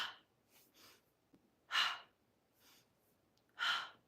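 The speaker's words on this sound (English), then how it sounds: "Remember, you want that breath like you're breathing out" Forceful exhalations during an exercise class, three strong, breathy pushes of air out with softer breaths in between, close and quiet in the surroundings.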